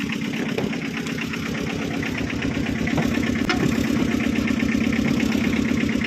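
A Tata Ace HT engine idles close by after its silencer leak was welded, giving a steady, even, rhythmic chugging throughout.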